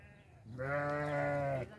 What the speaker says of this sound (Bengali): এক সুদানি ভাই ছাগল ধরছে